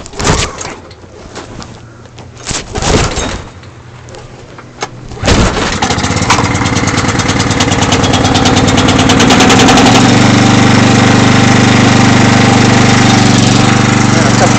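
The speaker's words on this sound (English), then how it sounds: "basically what I do is just give it a couple of tugs and hopefully it'll go." A portable generator's engine is tugged on its pull cord a couple of times with sputtering bursts, then catches and settles into a loud, steady, rough running drone close by.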